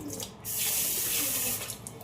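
Running tap water pours steadily as flattened rice is rinsed under it, a close, continuous splashing rush lasting over a second before easing off.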